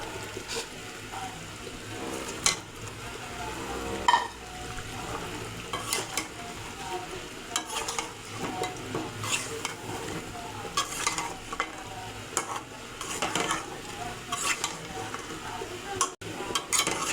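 Duck meat curry with fried potatoes is stirred and fried in a pan, a constant low sizzle broken by frequent scraping, clattering utensil strokes and occasional metallic knocks, close up.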